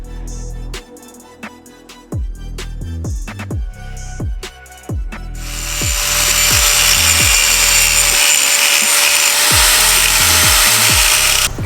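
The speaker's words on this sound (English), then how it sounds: "we had to grind a little bit off these knuckles right here" Angle grinder cutting into metal steering knuckles on a monster truck, a harsh broadband grind that starts about halfway through and runs steadily loud, preceded by intermittent clanks and tool handling.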